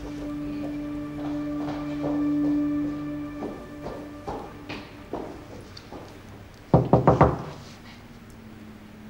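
Knuckles rapping on a door indoors, a few scattered knocks followed by a sharp cluster of three or four loud raps near the end, over a steady background hum.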